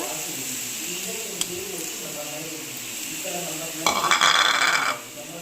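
Grated carrot and vegetables frying in a pan, with a soft steady sizzle and a brief burst of louder stirring and scraping near the end.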